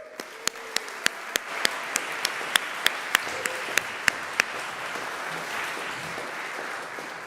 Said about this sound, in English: give another round of applause for our gratitude for the bell choir this year